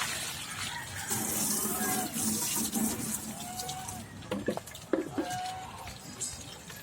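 Running water splashes into a container steadily as dirty water is replaced for pet geese and ducks, with occasional clinks and faint voices in the background.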